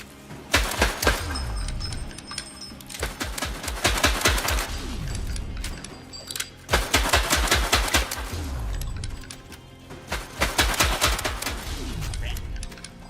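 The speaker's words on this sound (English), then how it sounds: "I just put like 8 mags into him and did nothing." Rapid automatic gunfire in the video game Gang of Frogs, aimed at a boss, comes in four loud sustained bursts separated by short pauses, with the shots rattling close together.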